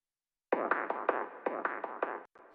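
A kick drum run through an Eventide TimeFactor filter pong delay without EQ, heard as a rapid series of about nine resonant, bandpassed pulses in a steady rhythm, dry and alone.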